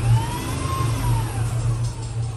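A Tesla-powered Can-Am pulls away under acceleration, with a steady loud electric motor whine rising in pitch over a low rumble and road noise, with no talk.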